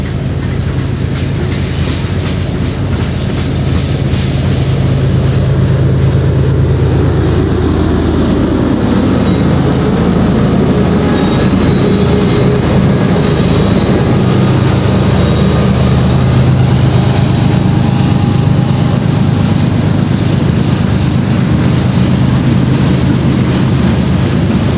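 Union Pacific freight locomotives, including two GE C45ACCTE units, work hard up a 1% grade, producing a loud, close, continuous engine roar blended with rumbling wheel and rail noise that holds steady throughout.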